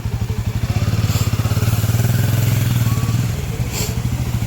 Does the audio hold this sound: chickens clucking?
no